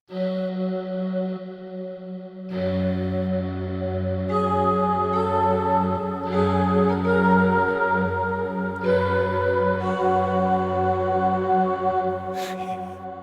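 Sustained Donner DEP-20 electric piano chords ring out with a long, washy reverb tail, each new chord swelling over the lingering decay of the last; no voices.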